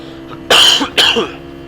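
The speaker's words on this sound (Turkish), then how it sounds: "Bir de bende hafif bir öksürük de var." Two sharp, close coughs in quick succession, loud and harsh against a quiet hum.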